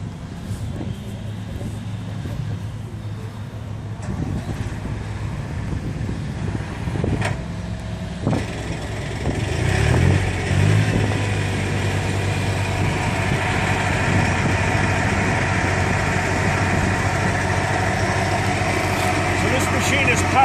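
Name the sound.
tractor running PTO-driven Typhoon RCA 400 Joy machine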